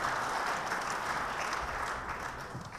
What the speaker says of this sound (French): je pense qu'on peut vous applaudir quand même